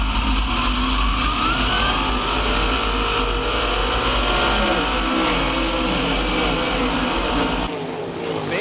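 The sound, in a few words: sprint cars accelerating on race restart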